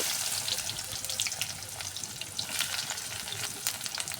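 Onion sizzling in a kadai of hot oil with cumin seeds, a close, steady crackling fry with bright spatter running throughout.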